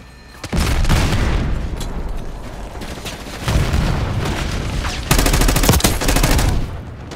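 Bursts of automatic gunfire and booming shots from the Call of Duty video game come in dense, loud volleys that overlap for the whole stretch. No voices.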